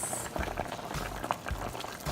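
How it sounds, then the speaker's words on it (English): Water with corn boils quietly in a pot, a soft, irregular burble of small pops with low rumbling beneath. "Here's my corn. It's boiling now."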